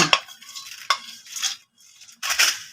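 Coconut being stirred into hot jaggery syrup for pori urundai, giving a few close scraping, clinking strokes of a spoon against a pan in short bursts with brief quiet gaps between them.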